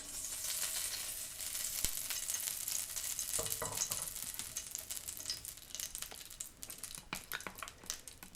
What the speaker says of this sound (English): Didn't count on the noise of the spoon.